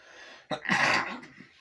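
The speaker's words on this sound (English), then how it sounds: "sneezing" One sneeze erupts close by, a sharp intake followed by a loud, breathy burst that fades quickly.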